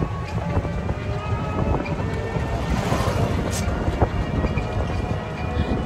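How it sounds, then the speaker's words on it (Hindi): Cool wind rushes past during an auto rickshaw ride, a steady, loud, buffeting roar mixed with rattly engine and road noise. "ठंडी ठंडी हवा चल रही है,"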